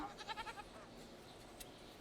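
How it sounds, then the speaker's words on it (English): Goats bleat in a farmyard scene from the medieval colony-building game Going Medieval: several short, quavering bleats close together in the first half second, then quieter ambience. "Got a lot of goats that may have to be sacrificed."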